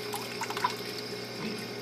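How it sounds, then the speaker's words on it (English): Water from a fish tank sump rushing and trickling through an opened toilet flapper in a Borneman surge setup; a continuous close splashing, gurgling drain with small drips and bubbles, no voices. "flapper opens up, all the water drains"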